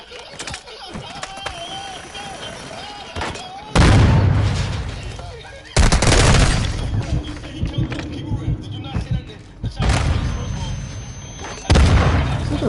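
Gunfire in the video game Warzone 2 comes as several loud, sudden bursts and booms separated by quieter stretches, with voices and game sounds in between.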